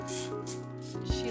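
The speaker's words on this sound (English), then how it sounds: "I just make sure that I spray all around the glass" Spray bottle misting water around the glass walls of a terrarium, heard as two short hissing bursts close by, followed by a faint tap, over a steady low hum.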